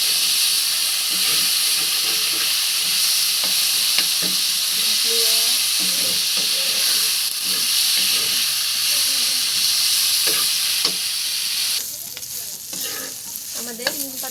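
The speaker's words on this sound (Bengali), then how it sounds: "আমাদের নিম পাতাটা এইভাবে সুন্দর করে ভেজে নিতে হবে তেলে" Neem leaves frying in oil with a little salt and turmeric, a steady loud sizzle with scraping stir sounds throughout, easing slightly near the end.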